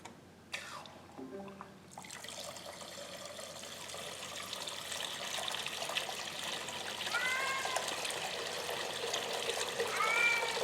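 Patio waterfall fountain switched on by a smart plug, trickling and splashing water rising to a steady flow, faint short chirps over it, after a brief electronic chime at the start.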